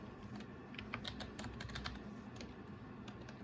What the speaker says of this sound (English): now I'm gonna type in my Pretty Wicked